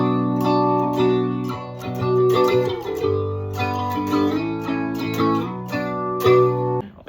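An electric guitar through a chorus modulation effect plays chords and short phrases with a shimmering, wavering tone, close and clear, with no voices over it.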